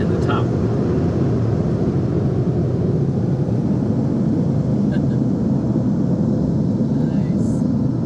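Automatic car wash brushes spin against the lower quarters and tires of a vehicle, producing a loud, steady whooshing roar of water and machinery that runs unbroken from start to finish.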